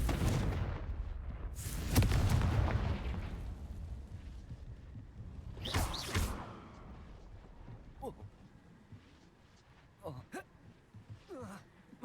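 Confringo fire blast spell cast in the game Hogwarts Legacy, heard as loud booming bursts and a crackling explosion followed by fainter pops, with a player speaking over the game sound.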